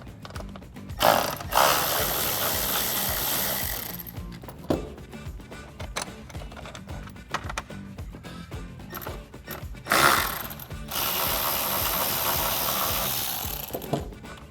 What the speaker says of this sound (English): we have two T25s we're gonna remove at this point